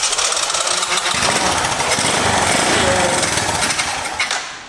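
An abandoned three-wheeler's small engine, primed with a little fuel after getting spark, fires and runs with a loud, steady, rattling hammer that holds for several seconds before easing off at the end, with no voices over it.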